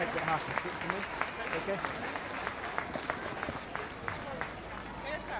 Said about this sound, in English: Claire Malloy and Elisa Hughes contribute to the applause for Alison Miller, and she's taken away.